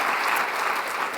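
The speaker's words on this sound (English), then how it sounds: "can I have a big round of applause" A brief burst of steady applause from a conference audience at a plenary session on climate change and health, many hands clapping together at an even level.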